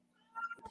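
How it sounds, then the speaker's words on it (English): A house cat gives a short, close meow, a single brief call in a quiet room. "That's Sapphire, the cat"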